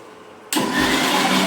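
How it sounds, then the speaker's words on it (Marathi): A kitchen mixer grinder switches on after a brief quiet moment and then runs loud and steady, a dense whirring roar that fills the rest of the short stretch. "आणि इकडे ही मिक्सर लावते"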